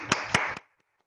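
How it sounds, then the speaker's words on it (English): A few sharp hand claps at an online school assembly, three distinct bursts close together, then silence. "can we all give Ellen a round of applause?"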